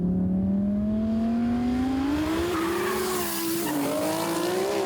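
A 1600HP Audi R8 and a 1600HP GT-R in a roll race, loud engines wailing in a rising pitch as they accelerate together, a brief dip in pitch at a gear change, then continued high-speed roar.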